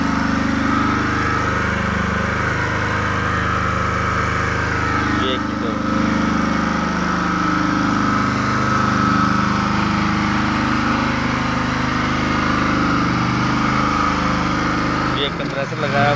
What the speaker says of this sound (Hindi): ये हाइड्रोजन किट पे जनरेटर स्टार्ट है